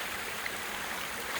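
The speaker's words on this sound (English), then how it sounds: "Came up on this little waterfall along the road." A small roadside waterfall near Crescent Lake outside Port Angeles, Washington, gives a steady, even rush of falling water, close and unbroken, with no voices.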